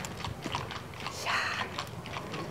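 Horse hooves clip-clop close by in an uneven run of soft thuds, with a brief scraping rustle in the middle.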